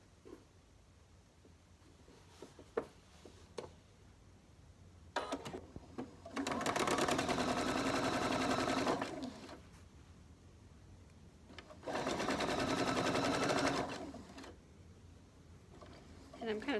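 A sewing machine stitches a quilt row of charm-pack squares, two loud, steady runs of rapid mechanical chatter separated by a pause, with a person talking quietly in the gaps.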